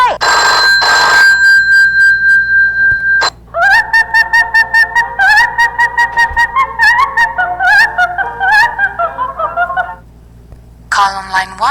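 A comical phone ringtone plays in loud bursts: a shrill electronic ring, then a run of warbling hooting, owl-like tones in a bouncy rhythm, stopping and restarting with another bright burst at the end.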